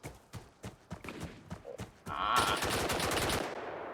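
Gunfire from a military shooter game, Blackhawk Rescue Mission 5, with a run of separate sharp shots followed by a dense, loud burst of rapid fire, close and with no talking.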